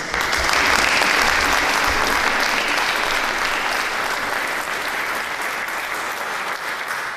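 A seated audience at a porcelain painting exhibition opening bursts into loud, sustained applause, dense clapping that stays strong throughout and fades slightly toward the end, with no speech over it.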